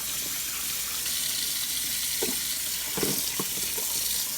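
Turkey parts are rinsed under a running kitchen tap, a steady close rush of water with a few brief splashes and knocks as the pieces are handled.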